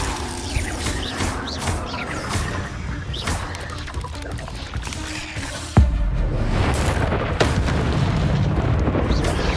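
Spells cast in Hogwarts Legacy, including the Depulso force charm, bursting out as deep booming impacts and crashing blasts, loud and close, with a heavy thump midway followed by a sustained rumbling roar.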